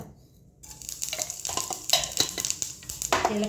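Cumin seeds sizzle and crackle as they drop into hot oil in a pan for jeera fried rice, a steady close-up frying hiss with scattered clinks and stirring sounds throughout.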